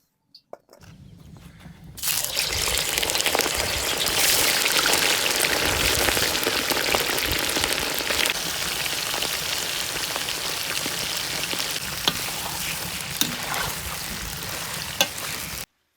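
About 1.5 kg of meat sizzles loudly in a hot pan, a dense, steady crackle and spatter that kicks in after a brief quiet start and keeps going evenly, close and with no voices over it.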